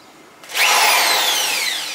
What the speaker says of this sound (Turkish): Mecbur matkapla açmam gerekecek